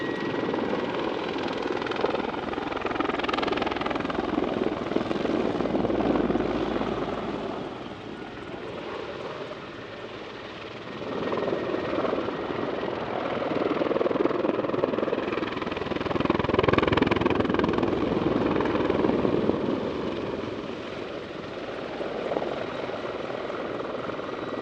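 A Hungarian Mi-24 Hind attack helicopter, delivered from Germany in 1994, flies at the RIAT 2022 airshow with a continuous rotor and turbine roar that swells and fades slightly as it passes, moderately distant, with no talk.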